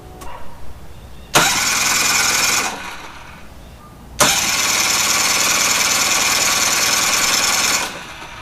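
A Mercury 9.9hp outboard engine cranks and fires in two loud, close bursts, the first running about a second before fading out, the second catching and running steadily for several seconds before cutting off.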